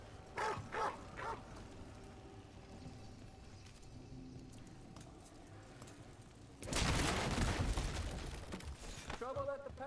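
Dogs in the video game Dragon Age: The Veilguard bark in quick yipping bursts, first a cluster of sharp barks, then a louder stretch of busy crowd-like noise with more barks at the end.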